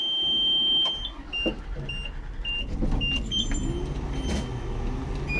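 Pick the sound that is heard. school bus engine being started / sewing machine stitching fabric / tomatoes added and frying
school bus engine being started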